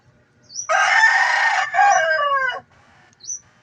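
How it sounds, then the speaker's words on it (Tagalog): A farm rooster lets out one long, loud crow close by. It starts after a short quiet gap, breaks briefly partway through, and is followed by a faint chirp near the end. No one speaks. "Pasensya na sa tilaok ng manok mga idol."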